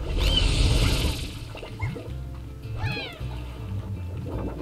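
Several cat creatures in the game Slime Rancher meow close by, drawn-out cries rising and falling over a low murmuring background and a soft rustle.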